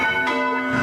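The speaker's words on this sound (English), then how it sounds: "Who on earth is ringing those chapel bells?" Chapel bells ringing as a radio play sound effect, a brief loud metallic strike with sustained ringing overtones, alone without voices.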